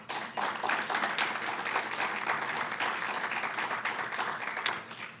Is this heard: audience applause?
yes